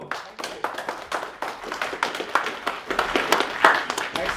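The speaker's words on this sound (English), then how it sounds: "Round of applause, thank you." An audience at a tech security and privacy meetup in Edinburgh claps for a speaker, a modest group of irregular, close claps with light murmuring.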